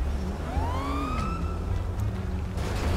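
A police car siren in the video game GTA 5 wails with rising and falling sweeps over a low engine rumble, loud and close, with no talking.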